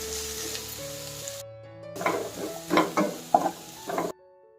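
Ivy gourd and egg stir-fry with chili powder being stirred in a pan, soft sizzling joined by several scraping spatula strokes, the clatter rising in bursts near the end, with faint tonal background sounds underneath.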